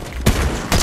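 Gunfire in a ranked solo match of a building shooter game: two sharp bursts of shots, close and fairly loud, one early and one near the end, with a steady hum between them.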